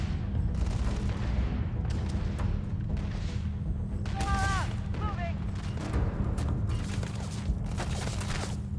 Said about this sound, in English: Are they shooting at each other?